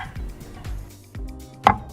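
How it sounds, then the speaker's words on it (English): A knife cuts a miniature banana into cubes on a board, making four evenly spaced soft taps about half a second apart. The last tap is the sharpest, and there is no voice. "I carefully cut the banana with a knife into thin plates."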